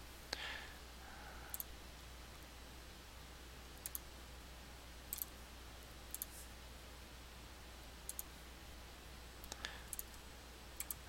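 Computer mouse clicks while working in CAD drawing software on a three-view V-block drawing: about eight faint, crisp single clicks spaced irregularly over a quiet, steady background hum, with no talking.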